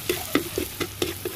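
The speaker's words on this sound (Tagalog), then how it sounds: "Imekos lang ng imekos hanggang maluto ang bawang at sibuyas." Garlic and onion fry in a pot while being stirred, giving a soft sizzle broken by about six evenly spaced scraping strokes, close and fairly quiet, with no talking.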